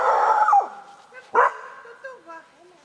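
A dog, called over during a mental-characteristics assessment, gives a couple of short barks and whimpering yips between stretches of human voices, fairly close and moderately loud.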